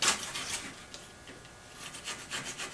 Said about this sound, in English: I got a razor scraper here. Let's see if I can get the adhesive off without too much fuss.